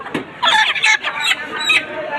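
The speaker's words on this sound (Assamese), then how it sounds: "এয়া মুৰ্গী বজাৰ।" Chickens at a local poultry market, with loud, close squawks and clucks in uneven bursts against busy background noise.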